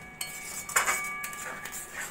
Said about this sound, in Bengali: ভালো করে মিশিয়ে নেব সব কিছু।